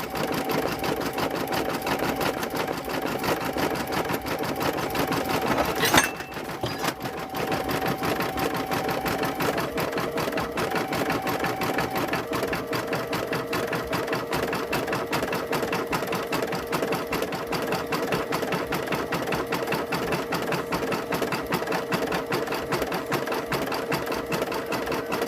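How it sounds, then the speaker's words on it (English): A sewing machine stitching a mug rug runs in a steady, fast, even mechanical whir, continuous and close, with one brief knock partway through and no talk. "4 more minutes to go and it'll be done stitching."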